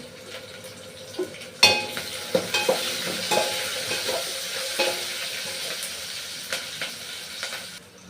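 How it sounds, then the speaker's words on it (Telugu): A handful of thinly sliced green chilies fry in hot oil for aloo dum biryani. A steady hissing sizzle carries through, broken by a sharp clatter and then repeated spoon-against-pan stirring knocks, all close by. "గోల్డెన్ బ్రౌన్ కలర్ వచ్చే వరకు వేయించుకోవాలి పచ్చిమిరపకాయలు కూడా వేసుకోవాలి"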